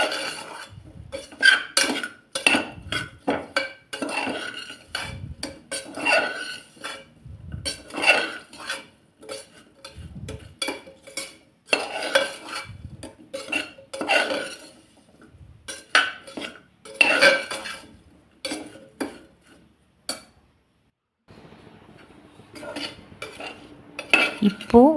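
Okra with chilli powder and salt is stirred in a pan, with a metal spoon scraping and clinking in repeated close, irregular bursts and brief pauses, ending in a quieter stretch.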